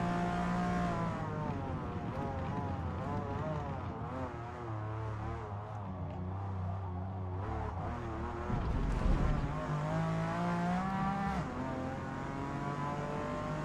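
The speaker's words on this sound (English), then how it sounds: "I'm really enjoying driving this McLaren F1." McLaren F1 supercar engine in Gran Turismo 7 drones steadily at high revs, with harmonic pitch rising and falling through gear changes and a brief rougher burst near the middle, heard close and continuous without talk.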